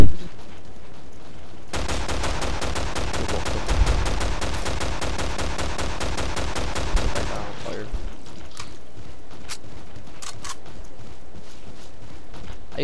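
Rapid automatic gunfire from Killing Floor rattles in a loud, sustained burst of evenly spaced shots for about six seconds, then trails off into scattered single shots and game noise.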